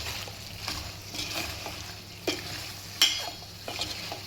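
Chicken liver pieces coated in chilli powder are stirred and fried in a pan, with a soft steady sizzle broken by occasional clinks and scraping strokes, fairly quiet and without talk.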